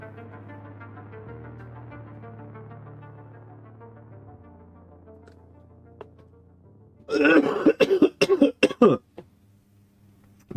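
Several harsh coughs burst out in a quick cluster after a stretch of quiet humming tones, loud and close with a final short cough at the end.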